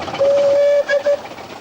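Short, loud whistle from a steam locomotive on the Romney, Hythe and Dymchurch Railway: one sustained blast followed by two brief toots, above low rumbling running noise.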